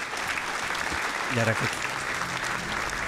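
A burst of clapping applause rustles steadily throughout, with someone talking over it.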